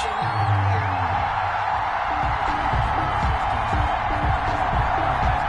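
A stadium crowd in an EA Sports NFL video game, Dolphins against Jaguars, keeps up a steady, dense roar. A commentator-like voice talks over it throughout.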